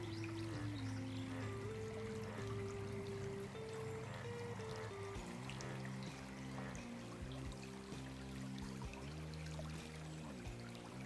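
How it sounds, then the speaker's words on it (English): Stream water pours and trickles into a water bottle held in the current outdoors, a continuous gurgling flow with shifting bubbly tones as the bottle fills, fairly quiet and close. "the energy of the stream is filling the water bottle"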